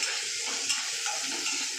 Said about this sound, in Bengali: পেঁয়াজ একটু ভাজা হয়ে গেছে।